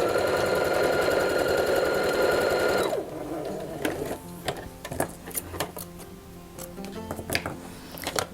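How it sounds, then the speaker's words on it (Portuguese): A sewing machine stitches the back of a sleeve hem with a loud, steady whir for about three seconds, then gives way to scattered clicks and fabric handling. "a gente agora vai costurar só esta parte de trás, deixando-a já pronta pra lá"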